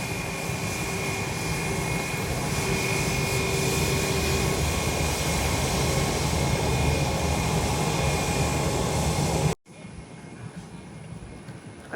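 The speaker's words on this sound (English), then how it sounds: "American 783 heading to Charlotte on an A321 Classic, an ex-US Airways aircraft, now taxiing to the runway here in the North Complex" At San Juan airport's north complex, an American Airlines Airbus A321, formerly US Airways, taxis to the runway with a steady, loud jet engine roar that cuts off abruptly near the end.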